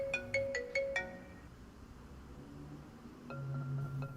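An incoming call ringtone on a mobile phone in a Hindi movie scene: a quick series of bright electronic chimes, a pause, then a softer repeating tone pattern over faint background rustle, with no talking.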